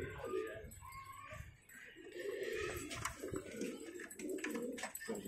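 Karbalai breeding pigeons cooing in a caged breeding loft, including a pair sitting on eggs; soft repeated coos and rustling continue throughout, close by, with faint background noise.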